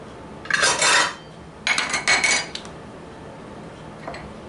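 Pumpkin bread batter stirred by hand in a bowl, with three bursts of a utensil scraping and clinking against the bowl separated by brief pauses, plus a faint tap near the end.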